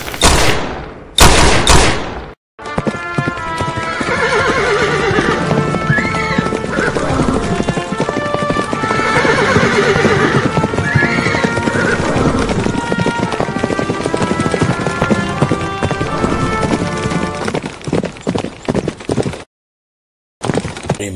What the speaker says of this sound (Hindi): आपका घोड़ा तैयार है।